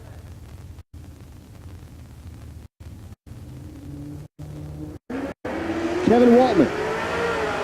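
Drag race cars at a Texas race week event launch and accelerate, a Corvette in the right lane, the engine roar swelling to a loud, hissing rush near the end while an announcer talks over it.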